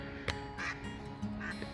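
Ducks in Yosemite Valley give a few scattered quacks against soft outdoor background noise, moderately close and brief.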